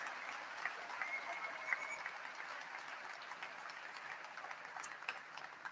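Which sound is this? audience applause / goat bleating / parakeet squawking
audience applause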